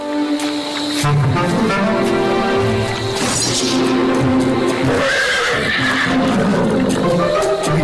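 In a Sinhala cartoon, a horse gives a loud, drawn-out neigh and whinny over busy soundtrack music and effects, with a crashing burst near the middle.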